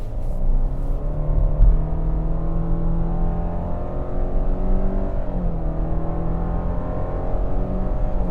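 A 2025 Subaru Outback Limited on a test drive, engine pulling hard as it accelerates, a steady rising drone with climbing harmonics heard from inside the cabin, loud and continuous with no talking.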